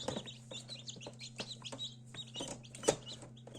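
Newly hatched chicks chirp in quick, high-pitched peeps, several overlapping calls close by over a faint steady hum.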